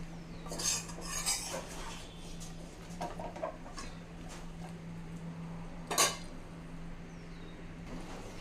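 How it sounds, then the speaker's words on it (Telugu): Eggplant curry being stirred in a pan, with spoon scraping and clinking against the metal in irregular bursts over a steady low hum, one louder clank near the end; no talking. "కూర మిక్స్ చేద్దామండి"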